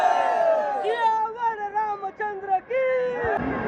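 A large crowd fills an India versus New Zealand ODI cricket stadium in Raipur with steady, loud roaring and cheering. Rising calls and whoops stand out above the broad wash of noise.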